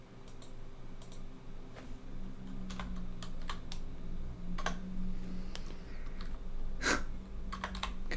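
Fingers type on a computer keyboard in irregular bursts of sharp clicking keystrokes, close and fairly quiet over a low steady room hum, with no talking.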